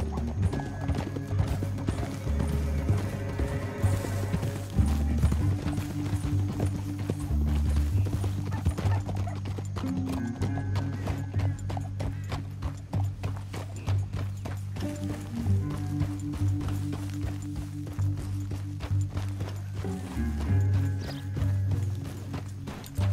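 Horses gallop in Red Dead Redemption 2, their steady clip-clop hoofbeats running without pause and joined by an occasional neigh, all set over a continuous tonal game soundtrack.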